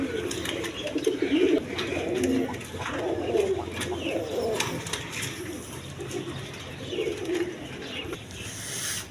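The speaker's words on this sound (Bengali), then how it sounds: "দেখেন কবুতর কারে অরিজিনাল ইন্ডিয়ান বোম্বাই কবুতর" Indian Bombay pigeons cooing in a farm loft, a continuous layered chorus of low, throaty coos from several birds close by, with faint wing flutters.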